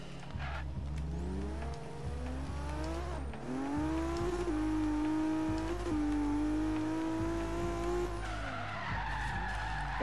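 A Lexus SC300 in Forza Horizon 3 skids through a long handbrake slide, its engine droning steadily over a sustained tire screech that rises in pitch, loud and close, then eases off near the end.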